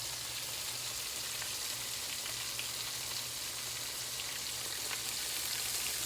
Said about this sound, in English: there's what 2 batches of the shrimp look like